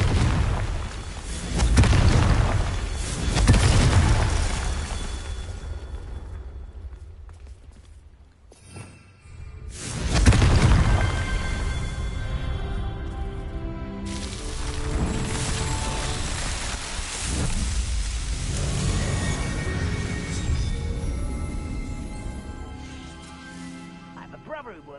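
Blasting-spell explosions in Hogwarts Legacy, with several heavy booms and bursts in quick succession, one after a brief lull, mixed with game noise and a voice speaking throughout.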